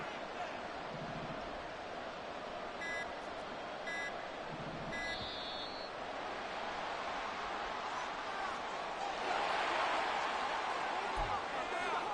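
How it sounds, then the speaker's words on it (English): A football stadium crowd roars steadily during a late two-point conversion attempt, a dense, continuous wall of noise that swells louder near the end, with repeated electronic beeps and a commentator's voice over it. "Listen to this crowd now."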